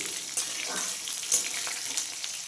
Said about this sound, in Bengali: এবার আমটা একটু তেলের মধ্যে ফোড়নে ভালো করে ভেজে নিলাম।